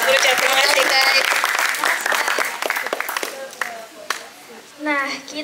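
Audience applause at a community talk show, loud clapping filling the room for a few seconds, thinning into scattered claps as voices speak over it, with a brief late swell of cheering.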